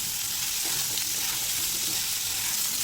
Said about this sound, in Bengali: কুমড়োগুলোকে লালচে করে ভেজে নেব গ্যাসের ফ্লেমটাকে হাইতে রাখবো এতে করে কুমড়োগুলো ভাজা হবে